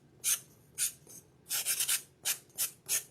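Fine-grit sandpaper rubs over craft foam in short, separate scratchy strokes, close and crisp, with brief quiet gaps between them.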